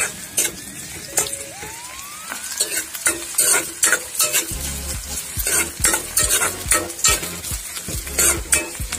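Chopped onions sizzle in a frying pan, with a steady crackle under repeated stirring strokes and occasional utensil clinks against the pan, close and fairly loud.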